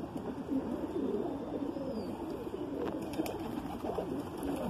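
A Madrasi pigeon coos close by in soft, rolling, repeated calls that run steadily throughout over a quiet background.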